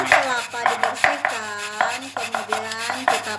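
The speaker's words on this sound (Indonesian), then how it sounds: "Ini tadi kelapa yang sudah dibakar lalu diparut." Roasted, husk-cleaned coconut is grated by hand, making a rhythmic series of rasping scrapes with squeaky, ringing tones between strokes, close up and without talk.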